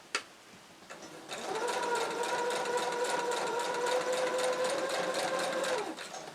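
A sewing machine runs a straight seam on a flying geese quilt block, a steady, close mechanical whir with a fast regular tick that lasts about four and a half seconds before slowing to a stop.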